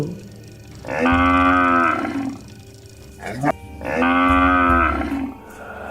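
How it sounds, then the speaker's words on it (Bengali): Two long, loud cow moos from a cartoon sound effect set at night, each a drawn-out bellowing call with a short pause between them, heard alone without talk. "এত রাতে ভাগাড়ে আবার গরু কোথা থেকে ডাকছে"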